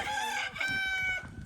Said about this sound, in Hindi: इसके अंदर मुर्गे बोल रहे हैं